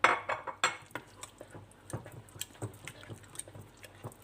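A utensil stirs strained homemade yogurt into a tarhana mixture in a bowl, producing repeated close scraping and light clinking taps in an uneven rhythm, louder at first and then softer, with no talking.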